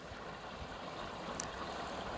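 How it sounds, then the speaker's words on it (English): Water flowing steadily through a river simulation flume, a constant low rushing wash with no break, faint and even throughout. "I'm going to open the throttle a bit on our flume and let's see what happens."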